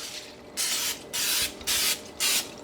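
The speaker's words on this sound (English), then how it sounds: "I need to grease it really well. I'm gonna use just a little bit of this spray." Four short hissing bursts of cooking spray greasing a bundt pan, each lasting about a third of a second, with brief quiet gaps between them. Close and fairly loud.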